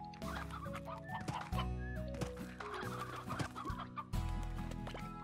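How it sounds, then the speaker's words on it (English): Chickens in the video game Slime Rancher cluck repeatedly over a dense, busy layer of game music and effects, the clucks fairly close and mixed with other farm-like sounds. "Go for those chickens, y'all."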